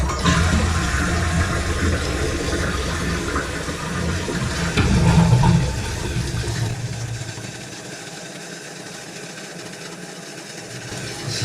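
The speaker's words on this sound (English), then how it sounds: "I'll connect it back up to the handle and just flush it and see if that'll hold it open" A repaired, previously leaking toilet flushes with a loud rushing gurgle that drains away, leaving a quieter hiss of the tank refilling.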